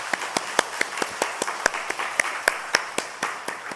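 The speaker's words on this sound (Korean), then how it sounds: "우리 영광의 박수를 한번 드리도록 하겠습니다." A church congregation at a Sunday morning worship service claps in a sparse, uneven rhythm, with sharp individual claps standing out from a soft wash of clapping across the room.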